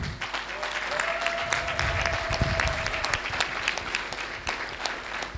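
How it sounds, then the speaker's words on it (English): Sustained applause from a crowd at the IDAN 2025 closing session, dense clapping filling the whole stretch with a faint tone briefly audible beneath it. "One more hand of applause for all of them."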